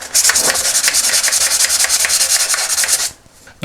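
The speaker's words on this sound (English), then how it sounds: "I'm going to get some very fine grit sandpaper and just use that to do the same process, just sort of rub over it" Fine grit sandpaper rubbing rust off the metal axle of a vintage Action Man toy, a loud, steady run of quick rhythmic back-and-forth scrubbing strokes up close that stops abruptly near the end.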